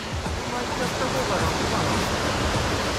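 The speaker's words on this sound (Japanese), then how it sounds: "滝か。" A mountain stream waterfall in a river source gorge, a steady broadband rush of falling water that fills the whole clip with no pauses or breaks.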